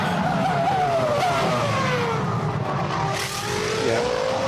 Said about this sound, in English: V10's versus V6 for F1